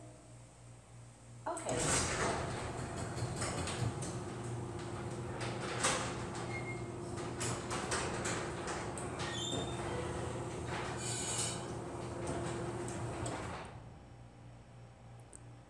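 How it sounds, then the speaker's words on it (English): An Alexa-controlled, Arduino-driven garage door opener starts with a clunk and sets the door rolling in a long, steady rumbling slide that fades out after about twelve seconds, with a short spoken reply near the start. "open garage door one."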